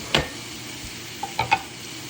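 Marinated chicken fries in melted butter under a faint constant sizzle, with a handful of sharp, close scrapes and clinks from a utensil stirring in the pan, one early and a quick cluster near the end.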